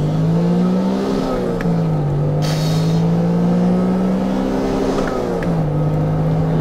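A 1991 first-series Honda NSX engine held against the rev limiter, a loud sustained high-revving drone that wavers and bounces at the cutoff with brief dips, close up and alone.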